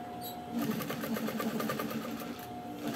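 A domestic sewing machine runs steadily through a thick rug made of knitted coat fabric, a rapid, even mechanical rattle that starts after a brief pause and continues close and loud to the end.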